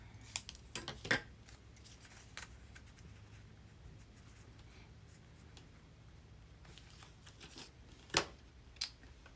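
Scissors snipping through a tea-dyed tea bag envelope, a few crisp close cuts at the start, quiet paper handling in the middle, then another sharp snip near the end.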